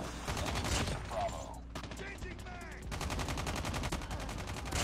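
A BK57 rifle fires in rapid automatic bursts in Call of Duty Mobile, a dense rattling stream of shots with brief pauses between volleys, game announcer callouts heard faintly in the middle.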